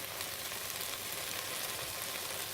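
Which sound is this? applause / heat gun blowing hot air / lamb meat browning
lamb meat browning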